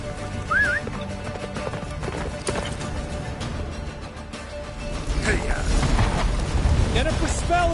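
Horse hooves clip-clop at a gallop in The Witcher 3 as a character urges the horse on through a blizzard, with whinnies, game effects and spoken dialogue layered over the hoofbeats.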